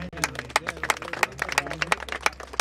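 A crowd at a Hindi devotional gathering claps as a tribute to Brahmins, the sharp individual claps standing out in a loose, uneven rhythm over a low steady hum, with no talking.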